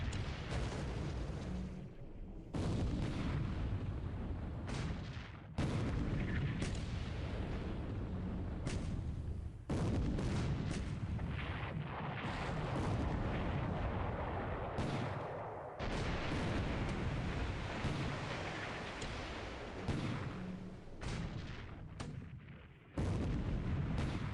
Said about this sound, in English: Anti-aircraft guns are shooting at each other here.